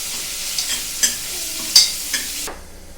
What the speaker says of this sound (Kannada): ಹೆಚ್ಚಿರ್ತಕ್ಕಂಥ ಆಲೂಗಡ್ಡೆ, ಸ್ವಲ್ಪ ಫ್ರೈ ಆಗಬೇಕು.